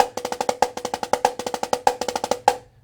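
Snare drum diddles played in quick doubled bursts, the sixteenth-note flow slightly slurred and uneven, alone and close.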